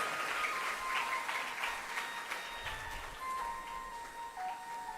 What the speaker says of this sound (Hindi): तालियां तो बड़ी ऐसे मरी मराई बज रही हैं कि हाथ पर मेहंदी लगा के आए हो गए।